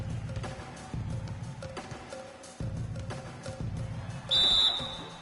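A single short, shrill referee whistle in a 2K basketball video game between the Raptors and an opponent sounds near the end, over rhythmic thuds and court noise.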